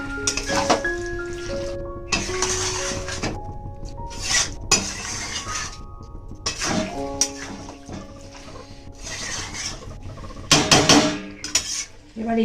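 A metal spoon scrapes and clinks against a pot as sugar is stirred into a mixed winter-vegetable curry, coming in repeated bursts with short pauses between. A voice murmurs faintly underneath now and then.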